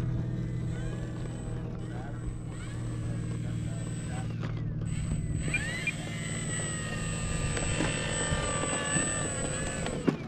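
An FMS Ranger 1800mm Cessna electric model plane touching down at a flying field, its propeller whine steady and moderately distant beneath background chatter and voices.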